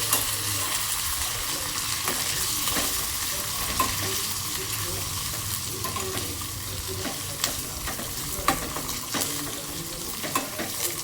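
Curry leaves and dried chillies fry in hot oil with a steady sizzle, broken by occasional stirring clicks and scrapes of a spoon in the pan.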